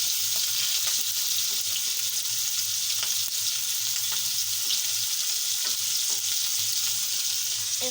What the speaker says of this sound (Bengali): দেখুন গাইস, কত সুন্দর করে ভাজা হচ্ছে।